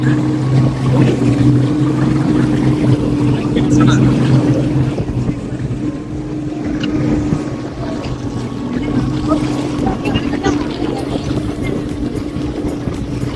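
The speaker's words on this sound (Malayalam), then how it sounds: "ഇത് ബോട്ടിന്റെ എഞ്ചിൻ" Boat engine droning steadily throughout a boat ride on the lake at Taupo, a loud continuous low hum mixed with wind buffeting the microphone, with voices talking over it at times.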